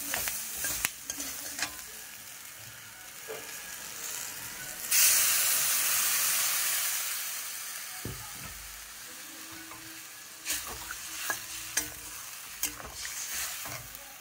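Fish curry with potato and plantain in a pan: steady soft frying with stirring scrapes, then a loud hissing sizzle bursts up midway and slowly fades, followed by more clatter of stirring.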